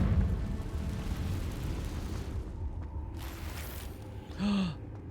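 A Confringo spell blast in Hogwarts Legacy, a dense rumbling burst of fiery noise that fills the clip with a low roar before thinning out, with a brief whoosh near the end.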